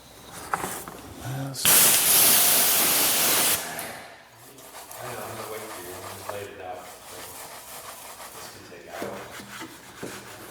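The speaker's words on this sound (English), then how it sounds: "Spray a little brake buster on the exhaust tips" A loud, hissing aerosol spray of brake cleaner onto car exhaust tips blasts for about two seconds, followed by a person talking.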